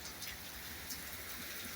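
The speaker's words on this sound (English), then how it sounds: "It is pouring outside." Heavy rain pours steadily outside on a hillside on St. Thomas in the U.S. Virgin Islands, a dense, even hiss of drops drumming on surfaces that continues without a break and with no voices.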